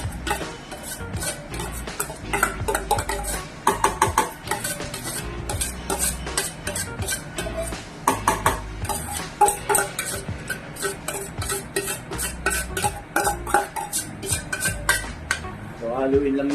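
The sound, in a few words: stirring garlic bits frying in oil in a pan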